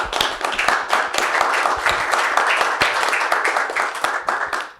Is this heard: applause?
yes